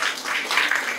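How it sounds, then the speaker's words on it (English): Audience applause at a school event, the Millet Marvels program at RBK Global School, a brief steady wash of many hands clapping together at moderate loudness. "Let's put a loud round of applause"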